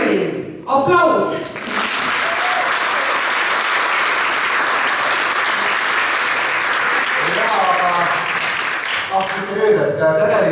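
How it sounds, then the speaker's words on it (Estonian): Dense, steady clapping from the audience at a folk dance group's 15th anniversary concert in Kiikla, swelling after a brief spoken moment at the start and easing as voices return near the end. "Aplaus!"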